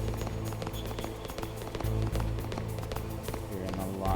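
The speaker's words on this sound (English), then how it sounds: "I'm hearing a lot of footsteps." Rapid running footsteps in the Metal Gear Solid video game, a steady patter of close taps under a dense, loud bed of game music and effects, with a voice talking over it.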